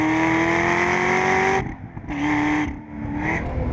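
A Chevrolet Corvette ZR1 with carbon ceramic brakes and sticky tires howls along at Laguna Seca near 108 mph, its steady high engine note cutting out abruptly as it brakes, then resuming at a lower, slightly rising pitch.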